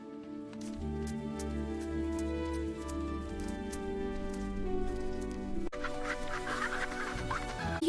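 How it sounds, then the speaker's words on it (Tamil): Chickens cluck on a farm in a Tamil children's cartoon, a cluster of repeated clucks over a sustained tonal music bed, with a brighter burst of activity near the end. "அது கோழி."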